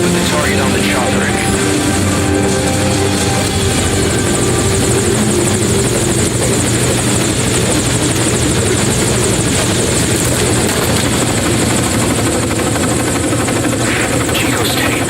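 Helicopter rotor and engine roar from the stealth game Metal Gear Solid V: Ground Zeroes, a loud, steady whirring drone held throughout with voices and game radio chatter layered on top.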